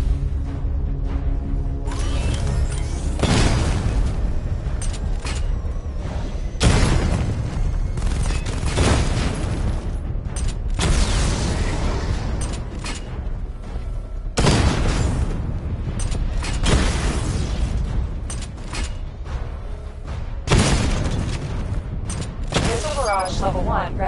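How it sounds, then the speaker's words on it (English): Repeated missile barrage explosions blast targets in a Batman video game, heavy booming impacts and rumbling bursts recurring every few seconds over a dense, continuous layer of game effects and music. "Destroy targets to charge up weapon energy and activate missile barrage"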